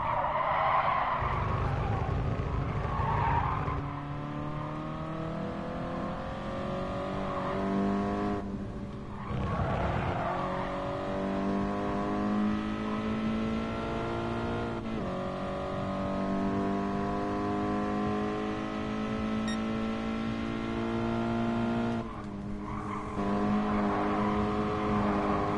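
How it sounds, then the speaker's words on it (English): Toyota 86 2016 limited edition racing in Gran Turismo Sport, a continuous close engine drone rising and falling through gear changes, with squealing, skidding tires and brief lifts of the throttle. "Racing a Toyota 86 2016 limited edition"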